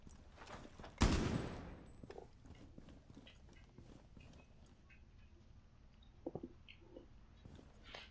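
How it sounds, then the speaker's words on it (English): A single sharp gunshot rings out near the start in Rainbow Six Siege, followed by quieter scattered game clicks and a couple of small thuds later, with no talk. "That was totally a one shot."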